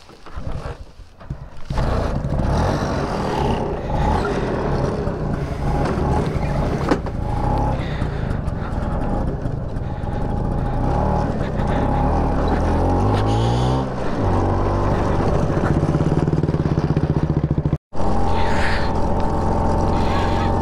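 An LML NV four-stroke scooter engine runs steadily at idle, a continuous low mechanical drone close by with a brief cutout near the end, while someone talks over it.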